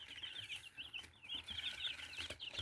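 Soft high-pitched peeping and chirping from young crested and bearded chicks, continuous and fairly close, with light rustling underneath.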